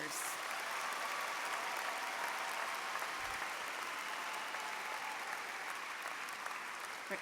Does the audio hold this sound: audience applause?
yes